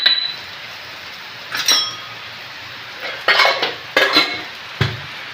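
A spoon stirs a tomato mixture with chilli powder, turmeric and salt in a pot, giving a few scattered scraping clinks against the metal in short bursts over a faint sizzle.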